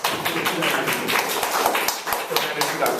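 A room of attendees at an NLGJA 2014 journalism panel gives brisk applause, distinct claps rattling steadily throughout while a voice speaks over them.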